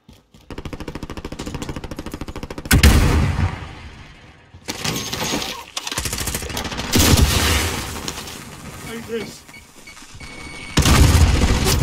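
Gunfire in the video game Call of Duty Warzone: loud bursts of automatic fire and sharp impacts come in several clusters with short quiet gaps between them.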